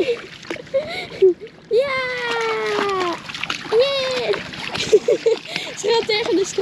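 A dog named Bella splashes into a stream, with watery splatters and sloshing heard close by, while someone shouts and chatters excitedly over the water.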